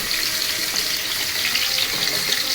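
Pieces of mutton going into a hot pan for Sindhi-style charsi karahi, giving a steady, dense sizzle and hiss that holds evenly throughout without pause.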